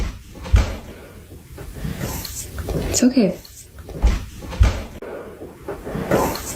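A door swinging shut in a home, captured as a few soft thuds and knocks amid a woman's quiet spoken words and a faint whispering voice.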